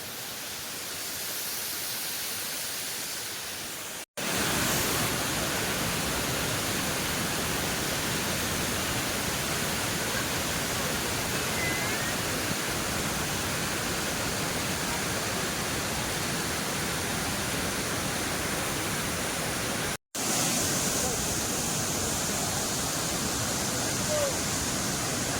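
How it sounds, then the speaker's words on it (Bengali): A waterfall in Meghalaya's Mawkdok Valley near Nohsngithi, with water pouring from above. It makes a steady, dense roar that fills the whole stretch and is interrupted only by two abrupt cuts. "এই যে উপর থেকে এই জায়গাটা, এটা থেকেও কিন্তু জল পড়ছে"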